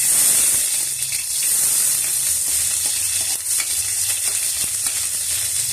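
Onion sautéing in a hot pan for mussel stew, a loud, steady close sizzle with faint scraping and stirring clicks running throughout, and no talk.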